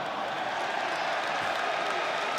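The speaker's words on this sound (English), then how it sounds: "And there's the Bronx cheer for the Aggie fans." Texas A&M Aggie fans at a college baseball game giving a Bronx cheer: a steady, dense wash of crowd noise from a packed stadium, holding at an even level throughout, with a broadcaster's voice faintly present.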